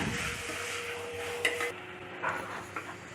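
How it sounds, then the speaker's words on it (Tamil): Ginger-garlic paste and tomatoes stirred and sautéed in a pan for a village-style country chicken curry, with a steady soft sizzle and occasional scrapes and clinks of a spoon against the pan. "அதையும் போட்டு கொஞ்சம் நேரம் வதக்கிடுங்க"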